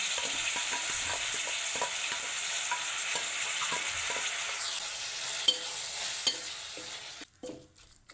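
Curry leaves sizzle as they are stirred into a frying mutton curry, a steady close crackle with scattered spoon scrapes and clicks that cuts off abruptly near the end.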